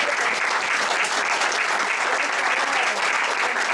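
An audience applauding Claudia Corol, a dense, continuous wash of hand clapping that stays loud and even from start to finish.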